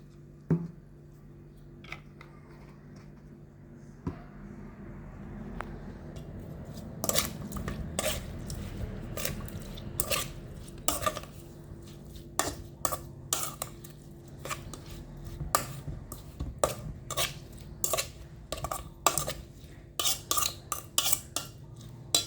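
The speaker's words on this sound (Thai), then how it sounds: "เติมน้ำเพื่อคลุกเคล้า" Food being stirred and tossed in a pan with fish sauce and water, starting with a low simmering bed, then repeated sharp clinks and scrapes of a utensil against the metal pan in an irregular rhythm, close by.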